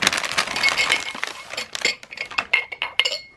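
Drinking glasses clink and knock against each other as they are unpacked, giving a close, irregular series of sharp glassy chinks and light rattles with no talk.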